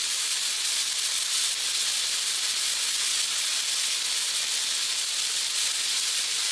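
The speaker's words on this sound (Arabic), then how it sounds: "هشوح اللحمة المفرومة" Half a kilo of minced meat sizzles while being sautéed with onion, a steady, even hiss that holds at the same level throughout with no talking.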